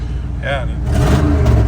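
An abandoned big block Chevy engine roars steadily while the vehicle is driven, a loud close continuous engine drone rising slightly in pitch, with someone speaking briefly over it.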